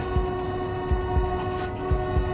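An oncoming train bearing down on tracks where sheep have wandered, a loud steady mechanical drone with sustained tonal hum and periodic low rhythmic thumps like wheels over rail joints.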